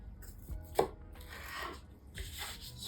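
Bell peppers are cut into bite-sized pieces on a cutting board for a summer salad, with a few soft knife chops and one sharper knock against the board, all close and quiet.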